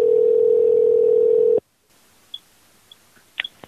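A telephone dial tone hums steadily and loudly on a landline for about a second and a half, then cuts off to near silence broken by a few faint clicks and blips of dialing.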